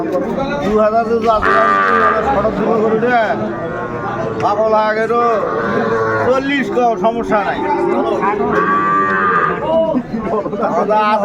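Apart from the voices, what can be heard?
Sahiwal bull calf mooing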